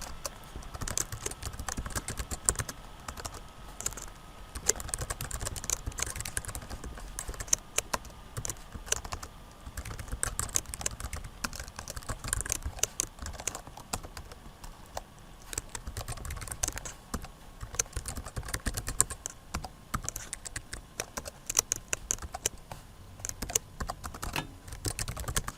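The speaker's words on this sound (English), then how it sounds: "So just typing a simple Hello World program." Steady keyboard typing on a computer while a simple Hello World program is entered, quick irregular key clicks running continuously and close up with no talk.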